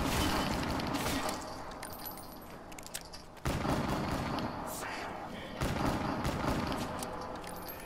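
Gunfire from a zombie-shooting match in Call of Duty Black Ops 3 Zombies, dense and continuous with repeated bursts and thuds, loud and close throughout.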